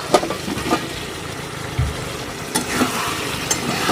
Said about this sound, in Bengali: এদিকে দেখো ফ্রাইড রাইসও পুরো একদম হয়ে গেছে